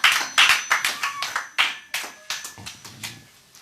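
A church congregation claps for the servant during a worship service, a burst of close, dense handclaps fading off in a few irregular waves.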